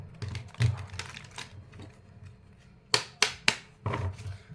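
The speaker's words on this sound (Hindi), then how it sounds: "लेकिन कार्ड तो देखो शफल करना पड़ेगा ना।" Tarot cards shuffled by hand close by, a soft riffling rustle followed by three sharp snapping taps and another brief rustle, no speech.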